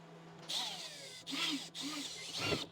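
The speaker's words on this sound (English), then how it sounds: "Now I want to drill it with a 8mm drill bit." A power drill with an 8mm bit whirs in short bursts, spinning up and cutting a hole during a Toyota GR Corolla kit install, with brief pauses between runs, close by.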